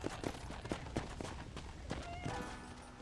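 Horse hooves from a video game clip-clopping in a quick gallop rhythm, close by, with a horse's snort near the end.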